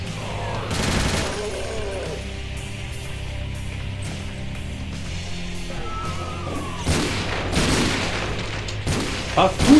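Guns blasting in the video game Doom (Sigil), with rapid repeated shots and booming bursts that come in clusters, loud and close, and someone talking in between.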